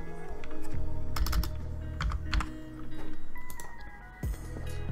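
A computer keyboard clacks close by in quick bursts of typing with brief pauses between them, set over a low background hum. No voices.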